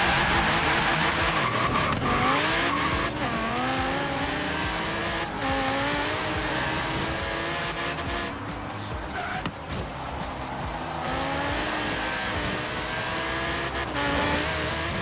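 A Jaguar D-Type race car engine in Forza Horizon 3 roars continuously, pitch rising and falling through gear shifts, with tires squealing at times.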